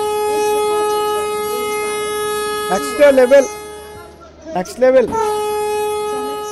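In the mobile game Indian Train Sim 2023, a locomotive horn holds one steady, loud, tonal blast from start to finish while someone briefly talks twice over it.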